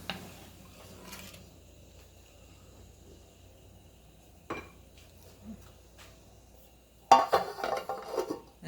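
A lid is set onto a cooking pot of Kerala jackfruit and fish curry, giving a short metallic clatter and rattle after a long, mostly quiet stretch with a few faint kitchen knocks.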